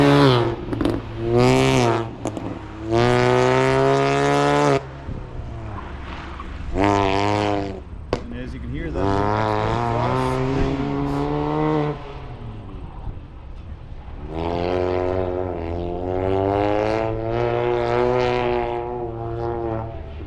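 A 2008 Mini Cooper with an X-Force exhaust runs at an autocross event, its engine rising and falling in repeated loud revs as it accelerates, lifts off and pulls hard again across the run.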